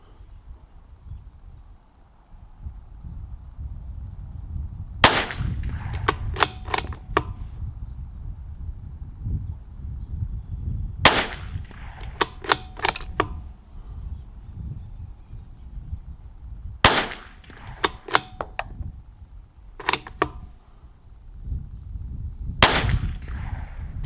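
A CZ457 MTR rifle firing RWS ammunition outdoors, sharp loud cracks in four spaced bursts, each followed by quick clattering bolt-action and reloading clicks over steady wind noise.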